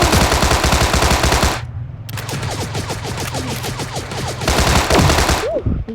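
Rapid, continuous minigun fire in the video game Sausage Man, loud and close, with a dense rattling burst that breaks off briefly and then resumes.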